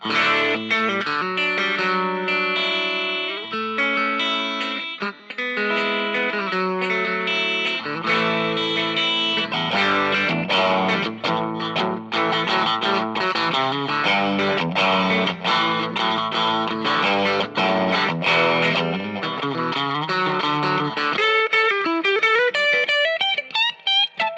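Stratocaster electric guitar played with the middle and bridge pickups wired out of phase, giving a thin, hollow tone through effects; steady chords and melodic lines ring continuously for the whole stretch, ending in a quick rising run.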